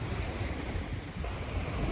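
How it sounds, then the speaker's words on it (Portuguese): A light breeze blows outdoors beside a wide expanse of water with trees just coming into leaf, heard as a steady, fairly loud rush of wind buffeting the microphone for the whole stretch, with no talking. "E aqui bate um ventinho."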